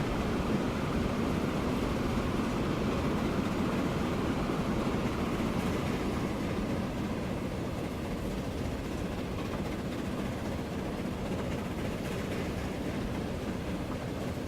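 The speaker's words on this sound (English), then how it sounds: "There's a freight train on its way south again." A freight train rolls along in the video game Transport Fever, a steady low rumble of wheels and wagons that holds at an even level throughout, with no talk over it.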